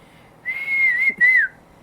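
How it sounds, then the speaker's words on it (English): A person whistles a short tune in the kitchen while waiting for a pot of water to reach a boil, two clear sustained whistled notes with a brief break between them, close and alone. "the whistling is helping"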